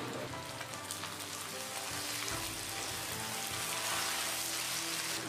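Egg-coated tofu fries in hot oil in a pan, a steady, dense sizzle and crackle that runs evenly without pause.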